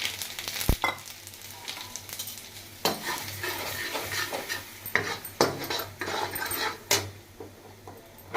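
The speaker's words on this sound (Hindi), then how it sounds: "अब मैं डालूँगी तेल में जीरा और ये मसाले" Cumin seeds and spices tossed into hot oil, a steady sizzle broken up by repeated scraping and clinking of a spoon stirring the pan, close and fairly quiet with no talking.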